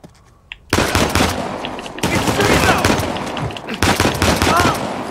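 Gunfire in the video game Uncharted: The Lost Legacy: after a near-silent start, loud, dense bursts of automatic fire break out, with a short gap around two seconds before the shooting resumes in rapid volleys.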